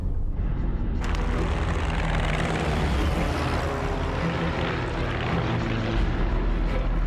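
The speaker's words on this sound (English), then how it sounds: "Die deutsche Luftwaffe bombardiert russische Armeestellungen." German Luftwaffe warplanes bomb Russian army positions in a war-film trailer. A loud, continuous propeller-engine roar fills the whole stretch, starting abruptly after a brief quieter opening.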